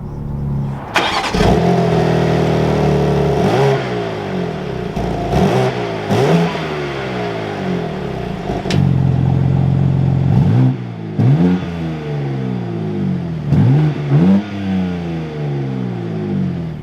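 A 2023 BMW M2 with a manual gearbox cranks and starts, then blips up and down through a series of sharp revs over a steady idle. The engine is close, loud and alone with no talking.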